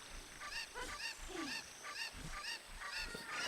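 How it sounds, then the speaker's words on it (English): Chickens squawk in Zelda: Ocarina of Time on Nintendo 64, a rapid series of repeated, shrill honking clucks over steady game background sound. "Chickens are so dramatic in this game."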